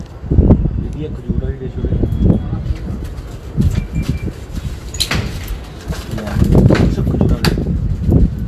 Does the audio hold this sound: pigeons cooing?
yes